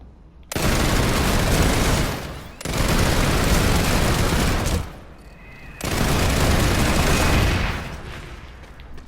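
Mana turret blasting in PlanetSide 2, three long loud roaring volleys of rapid fire broken by brief pauses, heavy and close, with no talk over it.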